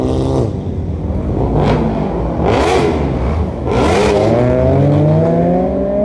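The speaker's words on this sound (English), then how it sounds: "Check out that Lamborghini right there though in purple. Sheesh. Gunning the red light." A purple and black Lamborghini accelerating hard from a red light: a loud, close engine note climbing through repeated revs with gear-change dips, then a sustained rising roar.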